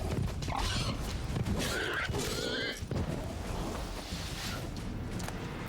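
Roach, a horse in a video game, neighs and runs with clip-clopping hooves, mixed into a busy, steady layer of game sound effects.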